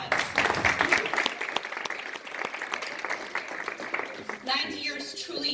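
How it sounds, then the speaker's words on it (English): A crowd at a Lions Club 90th anniversary gathering in 2019 breaks into dense, sustained applause for several seconds, fading as a voice begins speaking near the end. "I think that deserves a round of applause"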